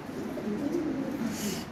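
A male red Lahori pigeon coos, a low, soft, rolling murmur held close and steady over a faint background.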